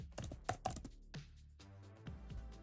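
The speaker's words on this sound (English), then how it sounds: "Type in an email address, and I'll type in another email address." Keys tapped on a keyboard while an email address is entered, a quick burst of close, crisp clicks followed by a few sparser taps, fairly quiet and with no talking.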